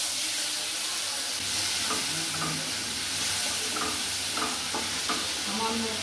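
Spice paste with chilli powders and garam masala frying with kakrol in a pan, giving a steady loud sizzle. A utensil stirs with intermittent scraping clinks throughout, close up and with no speech.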